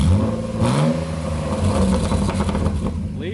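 A BMW 328is with its exhaust removed revs loudly and raw right beside the microphone, a deep rising and falling engine roar lasting a few seconds.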